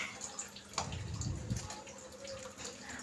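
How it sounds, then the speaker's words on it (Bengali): Chhena whey trickles through a mesh strainer into a bowl below, a soft steady splashing and dripping stream, close and quiet with no talking. "তো এই জালির মধ্যে আমি তুলে নিলাম যাতে ছানার জলটা নিচে ছাঁকা হয়ে পড়ে যায়।"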